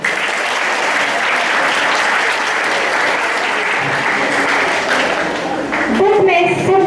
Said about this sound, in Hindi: बहुत ही सुंदर, एक जोरदार तालियां चाहिए।